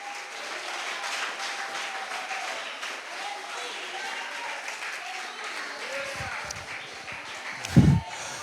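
A church congregation applauds continuously in a steady wash of clapping, with a heavy thump near the end.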